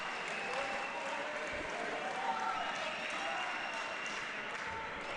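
A crowd at an indoor cricket grand final for under-15 boys at the national championships claps and cheers in a steady, fairly faint wash of applause that holds throughout, with a commentator's voice faintly over it.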